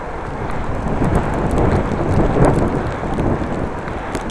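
Rain drums steadily on a bicycle rider's gear and face shield while cycling into a rain front, mixed with broadband wind rush; a continuous dense hiss that swells slightly in the middle, with no talking.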